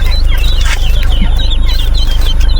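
Ducks and Rhode Island Red chickens on a farm cluck and call in a busy, overlapping chorus, loud and close, over a low steady background hum.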